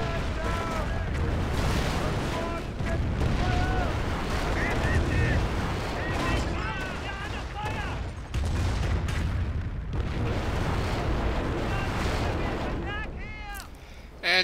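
Calliope rocket artillery in Company of Heroes fires a rapid volley of rockets, a sustained roar of launches and booming impacts, with battlefield noise and voices mixed in.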